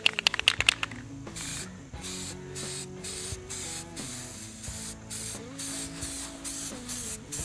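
Spray can primer misting onto Bondo filler in short repeated bursts, each hiss starting and stopping in a steady rhythm, close and moderately quiet, with a few sharp rattling clicks at the start.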